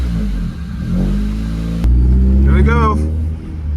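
A car engine starts and runs after an ECU replacement in a home garage. There is a steady low rumble close by that builds in the middle, with someone speaking briefly over it.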